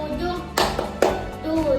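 Children in a classroom clap chant about multiples of seven, landing two sharp, close hand claps about half a second apart amid their sung, chanting voices.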